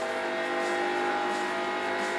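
A De Tomaso Pantera engine in Forza Motorsport 3 holds a steady, loud, buzzing drone through a drifting slide, with no clear tire squeal standing out.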